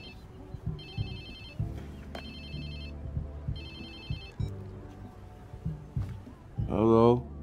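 A phone rings in Watch Dogs 2, with short bursts of electronic ringing repeating at a steady rhythm over game background sound, and a voice comes in near the end.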